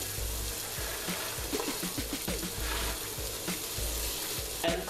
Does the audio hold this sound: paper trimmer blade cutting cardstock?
no